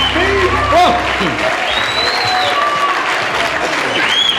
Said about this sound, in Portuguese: Vamos dar uma salva de palmas bem forte para Ele.